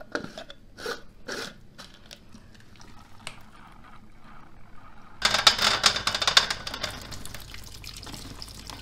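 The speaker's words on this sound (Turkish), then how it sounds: "Ara ara zeytinimizin tadına bakalım." Brined cracked green olives being bitten and chewed, several crisp crunchy bites close up, with quiet pauses between them and a denser, louder burst of crunching toward the end.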